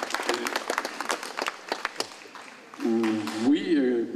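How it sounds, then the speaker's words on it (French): A literary-event audience in Rivesaltes claps in a scattered burst of sharp hand claps, then the applause thins out as a voice starts speaking over the fading clapping. "Oui, c'est bien d'applaudir."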